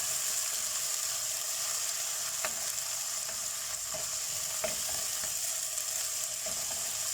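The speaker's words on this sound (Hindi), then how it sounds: "मसाले को ज़रा सा फ्राई करेंगे।" Spices frying in hot oil for mutton nihari, a steady close sizzle throughout with a few soft clicks of a stirring spoon against the pan and no talking.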